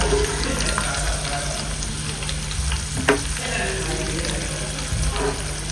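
Ingredients for a dry fenugreek chutney fry vigorously in oil with onion, a dense continuous sizzle close by, broken by occasional scrapes and clinks of stirring.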